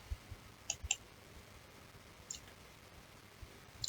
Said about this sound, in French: on clique dessus